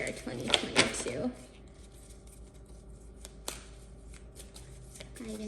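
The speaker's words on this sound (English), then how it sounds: "Let me shuffle this one more time." Tarot cards riffle and slap together in a brisk burst near the start, then give way to a quieter stretch with occasional small clicks and soft handling sounds.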